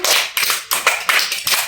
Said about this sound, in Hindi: ताली हो जाए इसी बात पे।